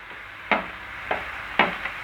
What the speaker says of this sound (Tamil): நல்லா கிளறி விட்டுப்போம்